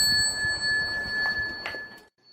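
A struck meditation bell rings with a clear, sustained metallic tone that hangs steadily, and a second strike near the end briefly brightens it before the sound cuts off into silence.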